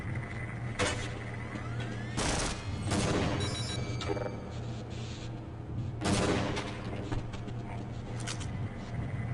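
Weapons fire in the Half-Life video game: scattered bursts of gunshots and explosive blasts, some loud and clustered, others lighter, over a steady background hum of game ambience.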